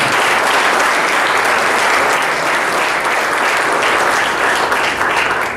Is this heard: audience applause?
yes